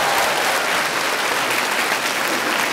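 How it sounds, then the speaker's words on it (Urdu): Audience applause at a televised Eid poetry-verse (bait bazi) competition: dense, steady clapping from a studio crowd filling the whole stretch without a break. "اس پہ بج گئی تالیاں"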